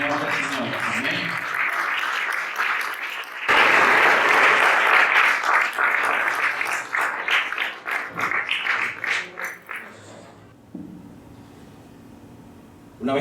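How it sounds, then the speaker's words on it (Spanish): A church congregation at a Spanish-language Sunday service applauds loudly in a dense, sustained burst that thins into scattered claps and fades away near the end. "vamos a darle un fuerte aplauso"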